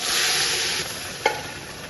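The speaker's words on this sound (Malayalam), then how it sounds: "നമ്മളിതാ പരിപ്പ് വേവിച്ച പരിപ്പ് ഒഴിച്ചു കൊടുക്കാം" Cooked lentils poured into a hot pan of curry leaf tempering for a Kerala-style parippu curry, giving a loud, steady sizzle that fades a little, with one brief clink of a utensil near the end.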